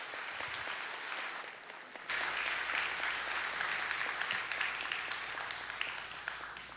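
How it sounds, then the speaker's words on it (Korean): A church congregation applauds in a sustained wave of clapping that swells suddenly after a quieter start and carries on with no talk over it. "우리 큰 박수로 우리 환영하도록 하겠습니다"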